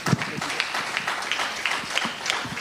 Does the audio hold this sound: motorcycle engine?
no